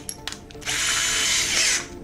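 A power drill with a 5 mm bit bores into copper pipe for a DIY lamp, a loud steady high whine lasting over a second after a few light clicks, close and alone.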